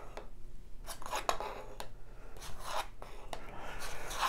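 Board game cards for Yamatai slide and rub across each other and the table, soft scraping swishes with a few light taps, close and quiet.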